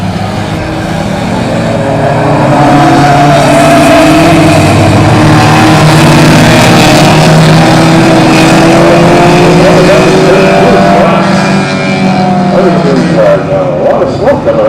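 Race cars roar around a track, with engines swelling and fading as they pass at moderate distance, a continuous loud drone layered with shifting revving tones while people talk over it.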